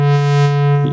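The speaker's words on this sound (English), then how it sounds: "as you cut out those upper harmonics," A synthesizer square wave, used in bass sound design, holds a steady buzzy tone while a filter cuts its upper harmonics until it softens toward a pure sine, loud and alone for about a second.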